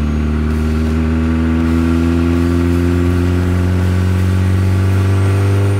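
The tuned engine of a Mitsubishi Mirage converted to a two-door Evo rumbles loudly and steadily up close, its revs climbing gradually with a deep, throaty drone and no voices.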